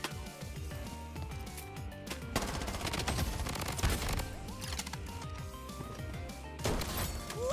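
Rapid gunfire in the shooter game Bloodstrike, with dense bursts and repeated loud shots stacking into a continuous crackling barrage and a few heavy impacts, close and loud with no speech over it.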